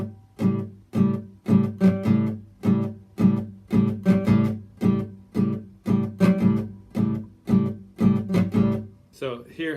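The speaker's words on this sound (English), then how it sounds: "I can just release the pressure and just have the slack string." Guitar chords in a root, major third and minor seventh voicing played with slack, muted strings instead of open ones: a dry, percussive quarter-note strum of about twenty short, evenly spaced choppy hits, close and alone.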